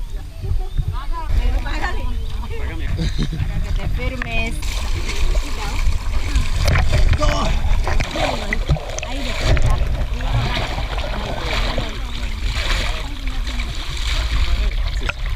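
Water splashes and sloshes steadily in a lake as people wash off mud, with voices talking over the noisy, continuous splashing throughout.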